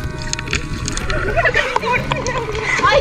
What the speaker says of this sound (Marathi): ओढ्याचं थंड पाणी आणि आम्हा तिघींचं ओढ्यात मनसोक्त खेळणं.